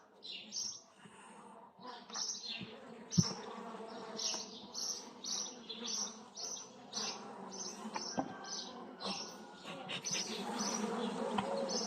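A swarm of honeybees hums at the hive, the buzzing rising and falling in waves, with faint bird chirps in the background.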